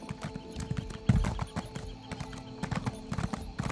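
Horse hooves clip-clopping in The Elder Scrolls Online, a fast, uneven patter of hoofbeats as the mount turns in circles, close and moderately loud with game ambience behind.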